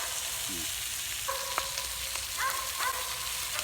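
Bacon and eggs sizzle in a Lodge cast iron skillet, a steady close frying hiss with a few short metallic scrapes and clinks from a utensil partway through.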